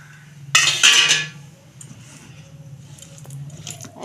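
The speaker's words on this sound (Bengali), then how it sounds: "দেখুন বন্ধুরা ঢাকনা খুলছি" A lid is lifted off a cooking pot of pakora batter with a short metallic clank and rattle near the start, followed by faint low kitchen noise.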